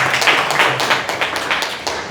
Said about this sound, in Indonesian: mungkin kita beri tepuk tangan sekali buat Mas Hiban ya